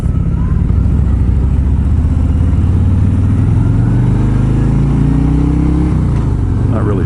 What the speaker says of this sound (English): I'm on a 2018 Harley-Davidson Road Glide.